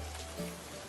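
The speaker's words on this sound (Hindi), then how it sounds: "बारिश अभी भी हो रही है" Rain falls continuously around a home courtyard, an even, dense hiss of drops with a faint tone drifting over it for a brief moment.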